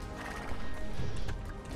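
A horse galloping in the video game Star Stable, rapid rhythmic hoofbeats over a dense, loud game soundscape, with a brief whinny-like tone.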